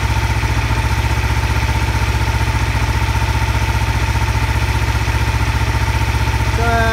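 A Kawasaki Ninja 500 motorcycle engine idles during a charging system test, a close, loud, even putter that pulses steadily throughout without a break.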